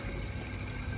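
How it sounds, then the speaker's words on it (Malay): Water pours out of a repaired SOBO aquarium top filter pump, a dense, constant gush and trickle, soft and unbroken throughout with no voices. "ada air keluar"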